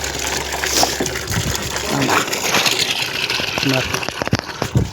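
Water gushes steadily as a motor pump fills a container on a farm, with a constant rushing flow, a few knocks and muffled voices in the background.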